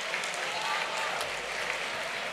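An audience at a public presentation on a European youth and school project claps together in a steady, even burst of applause, filling the room for a couple of seconds.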